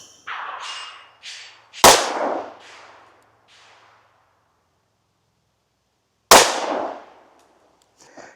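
Two sharp 10mm pistol gunshots fired outdoors at 10 yards while zeroing an optic, spaced about four seconds apart, each a loud crack with a decaying echo tail, with faint clinks before the first shot.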